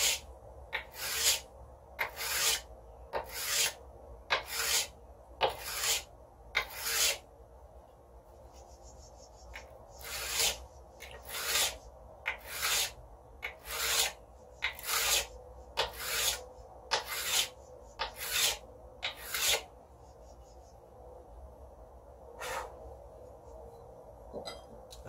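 A file is drawn in firm, straight strokes across the edge of a steel card scraper to flatten it, giving about twenty harsh, close rasping scrapes in an even rhythm with short pauses between them.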